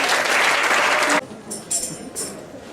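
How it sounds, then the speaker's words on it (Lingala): A church congregation claps loudly in dense applause for over a second, then it cuts off abruptly, leaving room tone and a few faint high tones. "Acclamez pour la parole du Seigneur"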